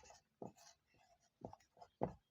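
A pen scratches on paper in several short, separate strokes, close and faint in a quiet room, while a maths teacher works through a circle-radius problem.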